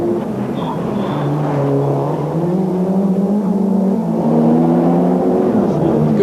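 Rally cars slowing through false chicanes on a closed street stage at night, engines droning loudly and shifting pitch as they brake and pull through, a continuous close roar with no voices.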